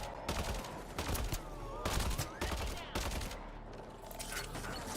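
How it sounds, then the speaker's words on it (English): Burst gunfire rattles from a video game in several loud fast clusters separated by brief gaps, close and harsh, with faint talking mixed in. "now I know it's a full-on burst fire"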